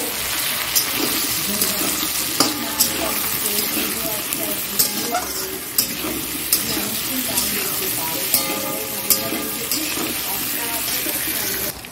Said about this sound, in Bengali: এর মধ্যে আলু দিয়ে দেবো আর একটু, দেখো আলুটা দিয়ে দিচ্ছি।